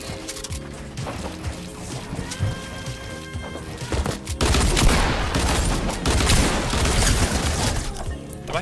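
Gunfire in the video game Fortnite: rapid shots crack out in busy, overlapping bursts, getting louder and denser toward the end, amid other game noise.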